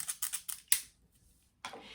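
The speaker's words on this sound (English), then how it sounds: "So then I'll use this scissor." Close, crisp snips of scissors cutting hair for texture, with a quick burst of four or five cuts, a short pause, then another slicing snip.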